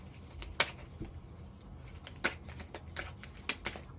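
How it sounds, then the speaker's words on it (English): Tarot cards shuffled and pulled from a deck for a love reading, giving several crisp riffling snaps and flicks at irregular intervals, close and fairly quiet, with no talking. "I'm going to pull some love cards from this deck"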